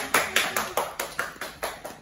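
Clapping at a Korean poetry reading in a regional dialect comes as a crisp, evenly spaced beat of about nine claps in two seconds, close and distinct, with no talking.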